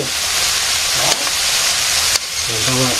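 Small puti fish spluttering in hot oil in a Bangladeshi village kitchen, a loud continuous close sizzle with a couple of sharp clicks and a faint voice or tonal sound near the end.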